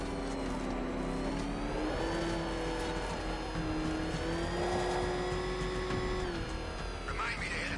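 Car driving in a Batman video game, a steady mid-pitched engine drone with a sustained tonal whine that rises and falls gently as the vehicle holds speed, with a faint voice underneath.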